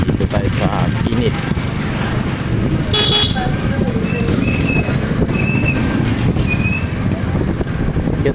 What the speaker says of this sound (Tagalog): Cute talaga ng busina nitong Badja